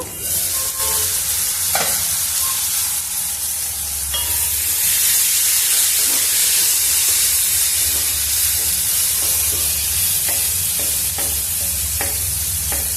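Tomato pieces cook in a covered pot for a fenugreek tamarind stew, giving a steady close hiss and sizzle of steam under the lid with faint scattered ticks, continuous and without talk.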